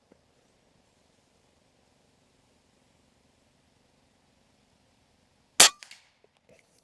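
A single sharp report from an Umarex Zelos PCP air rifle fired off a tripod outdoors, a crisp crack with a short ringing tail over quiet low background hum, followed by a few faint small clicks.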